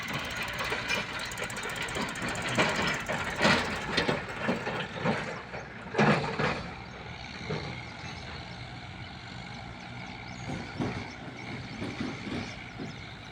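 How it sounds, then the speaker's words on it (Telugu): Tractors hauling loads of sand roll past near a thermal power plant, a loud, continuous diesel engine rumble with rattling, clanking bursts as each one goes by close, and no one speaking. "చూడండి చాలా ట్రాక్టర్లు అంటే చాలా ట్రాక్టర్లు ఎద్దుల బండ్లు అయితే వస్తూ ఉన్నాయి"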